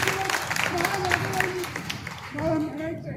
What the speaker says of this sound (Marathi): टाळ्या अजून जरा जोरात वाजायला पाहिजेत ना.